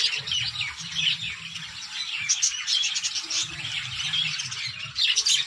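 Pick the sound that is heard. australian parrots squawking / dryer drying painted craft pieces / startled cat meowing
australian parrots squawking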